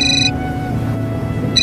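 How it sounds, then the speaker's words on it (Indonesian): A telephone rings in a house: an electronic ring sounds at the start, pauses, then repeats briefly near the end, with a low hum underneath. "Loh, kak Nia telepon?"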